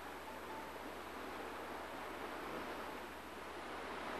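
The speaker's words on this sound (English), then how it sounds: "Listen to the river." The Musconetcong River flowing, a faint, even broadband rush of moving water with no voices, steady from start to end.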